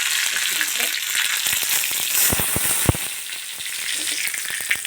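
Curry leaves, a small dried red chilli and mustard seeds sizzle and crackle in hot oil for a South Indian tempering, a steady loud hiss with scattered sharp pops and spatters close by.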